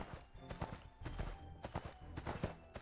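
Horse hoofbeats in the online game ArcheAge, a faint, quick, uneven clip-clop of hooves over a busy soft background.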